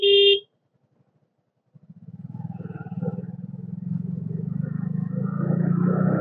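A motorcycle with an overtightened chain gives a rasping, grinding engine noise that starts after a brief beep and a pause, then runs steady and close, getting slightly louder.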